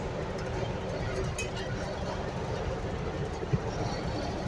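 A 60-year-old diesel multiple unit train running, heard from inside as a steady, dense rumble and rattling roar that continues evenly throughout, with a faint click or knock standing out briefly near the end.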